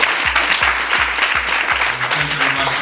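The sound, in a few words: audience applause in college chapel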